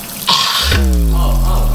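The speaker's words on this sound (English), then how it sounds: "Put hot water on." Hot water gushes from a tap, a loud steady rushing flow that starts abruptly and holds to the end, with a low rumble joining midway.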